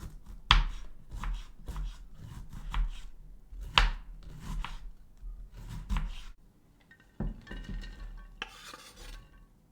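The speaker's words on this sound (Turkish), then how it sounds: "Orta boy lahananın dörtte birini kullanıyoruz. İnce ince doğruyoruz." A knife thinly slicing a quarter of a medium purple cabbage on a board, a series of crisp, close chopping strokes in an irregular rhythm with brief pauses and some rustling of the shreds.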